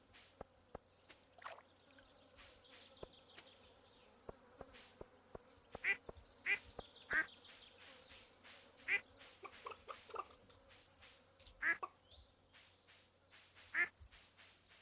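Ducks in Stardew Valley Expanded give a handful of short, scattered quacks over a soft buzzing, insect-like game ambience dotted with faint clicks.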